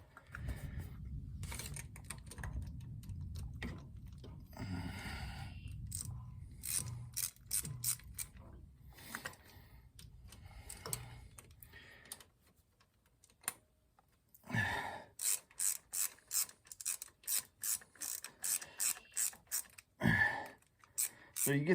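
A ratchet tightens bolts on a Royal Enfield Bullet 500 during an oil change, giving quick bursts of clicking strokes close by, interspersed with quiet pauses and some talking.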